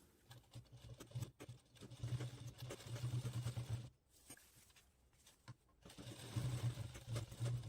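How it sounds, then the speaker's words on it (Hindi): A sewing machine stitches a diaper bag in bursts of fast, even mechanical whirring, each run several seconds long and separated by short quiet pauses, close by and alone. "प्रेस स्टिच लगा रही हूँ।"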